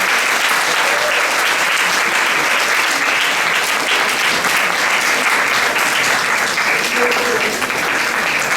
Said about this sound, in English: A round of applause, please. A huge one.